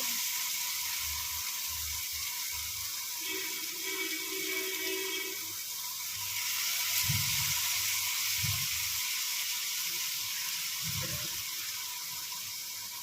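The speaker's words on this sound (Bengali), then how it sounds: "টমেটোটাকে দিয়ে একটু কষিয়ে নেব" Chopped tomato sautéing in a pan for a home-cooked Bengali dish, a steady close hiss of sizzling with occasional low bumps and stirring sounds.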